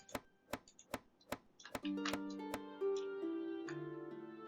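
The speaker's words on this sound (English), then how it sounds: "Let's keep chopping wood." Wood is chopped in a video game: sharp, evenly spaced wooden knocks ring out one by one, then give way to layered tonal game chimes and music.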